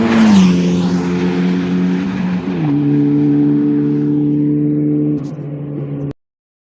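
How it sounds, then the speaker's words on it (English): A turbocharged Ariel Atom race car screams down a main straight, its engine note loud and sustained, dropping as it shifts through gears, then cutting off abruptly. "who said turbocharged cars don't sound as good as naturally aspirated cars?"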